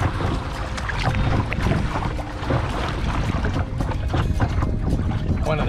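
A small kayak moves across a lake, with steady close water sloshing and paddle splashes mixed with wind noise on the microphone throughout.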